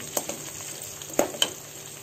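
Onions fry slowly in oil for a fish curry, a quiet sizzle broken by a few soft pops and stirring clicks over two seconds.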